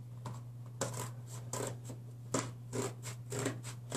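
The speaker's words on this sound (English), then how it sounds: "I'm going to cut through it because it's taped to hell" A blade cuts and tears through heavy tape sealing a Topps trading card package: a run of short, close scraping and slicing strokes in an uneven rhythm over a low steady hum, with no talk.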